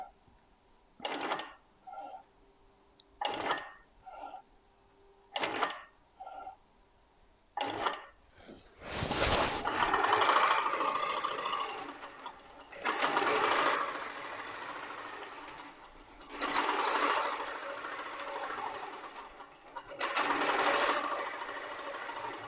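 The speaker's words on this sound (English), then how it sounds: "do some tie off stitches." A Moxie Pro-Stitcher Lite quilting machine sewing tie-off stitches, first in several short separate bursts, then in longer steady mechanical runs with brief pauses between them.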